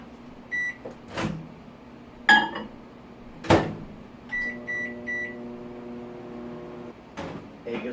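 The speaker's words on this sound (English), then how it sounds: "now we're going to put it in the microwave and it'll be done in 1 minute and 30" A microwave oven heats eggs with a low, steady hum. Several electronic beeps and a couple of sharp door clicks break the quiet.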